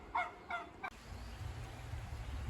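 Broad-breasted bronze turkeys on a farm give three quick gobbling calls close by, then give way to a low, steady background rumble.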